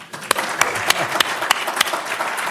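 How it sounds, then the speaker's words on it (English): Applause at a master's program opening ceremony for the incoming class of 2026, a steady crowd clapping with a few sharp individual claps standing out, close and fairly loud. "let's do a round of applause for you"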